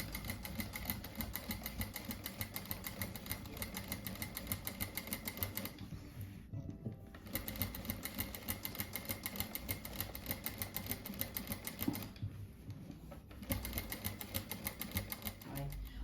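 Sewing machine stitching a small wheel onto a car-shaped cushion, a fast steady mechanical chatter running almost continuously, with two short pauses, close and quiet.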